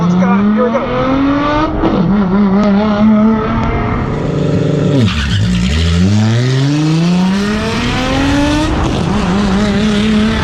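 Tesla Model S Raven launching in Cheetah mode and accelerating hard in a drag race, with a loud electric whine sweeping in pitch, a swooping pass-by partway through, and steady road and wind roar.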